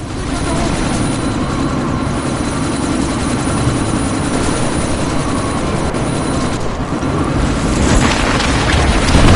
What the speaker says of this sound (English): this sandstorm might have just bought us some time, but you need to disable that chopper.